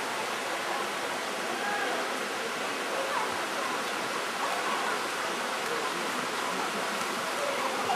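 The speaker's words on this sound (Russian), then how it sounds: "Сюда водичка вытекает." Water flows out into a natural green pool at Khao Nor Chu Chi in Thailand, a steady broadband rush that holds even and unbroken throughout, with no voices.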